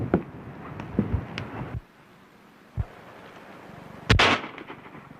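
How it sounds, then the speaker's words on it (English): Rifle shots fired at a bullseye target in an old 1931 Western film, a few sharp reports spaced seconds apart with the last one loudest, over a hissy background. "That's what I call real shooting."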